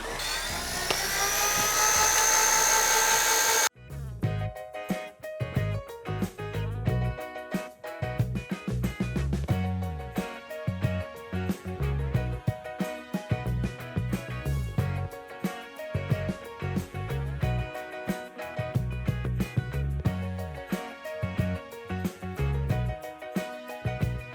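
An electric kitchen grinder whirs at high speed at first, then gives way to choppy, pulsing grinding bursts with rough stops and starts.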